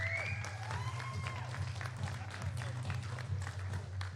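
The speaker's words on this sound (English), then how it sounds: "big round of applause for coming over here" Applause from a crowd at an indoor squash league match, steady moderate clapping spread across the space throughout, with a low electronic hum beneath and faint voices mixed in.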